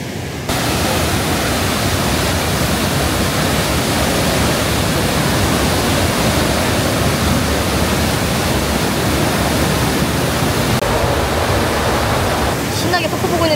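Iguazu Falls roars as a dense, loud, unbroken wash of falling water heard from close by, steady for the whole stretch.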